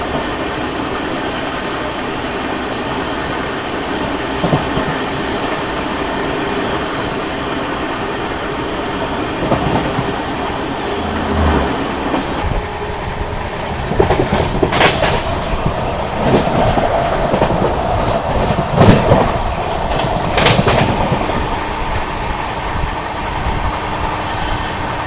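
Netaji Express train passing close by on the Indian railway line, a steady rumble and clickety-clack of wagons over rails running continuously, growing louder and busier midway, with no voices.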